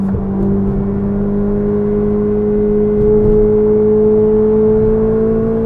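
Ferrari 488 GTB twin-turbo engine pulling steadily in comfort mode around town, a smooth sustained drone with a gently rising whine as the turbos spool up, close and even, no talk.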